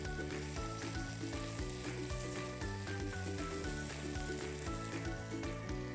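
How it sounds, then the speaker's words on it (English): Tomatoes sizzle and fry in a hot pan for stir-fry noodles with a steady hiss, heard faintly beneath louder rhythmic background music. "Once you add in your tomatoes, just give it a quick stir."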